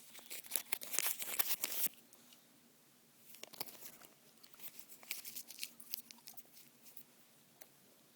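A last piece of chewing gum is unwrapped close up, crisp crinkling and tearing of the wrapper in quick bursts, then a pause and softer rustles and small crackles.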